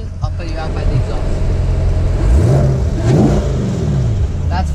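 A Corvette C8 engine revs up and eases off twice, heard close behind the car at the exhaust, deep and throaty, with a steady idle rumble between the revs and no speech.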